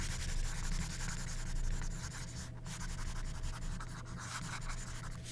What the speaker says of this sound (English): And let me erase these.